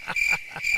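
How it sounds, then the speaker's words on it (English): Crickets chirp in a quick pulsing pattern as a comic sound effect in a podcast episode, with two bursts of high, trilling chirps close and clear and no voices over them. "Crickets."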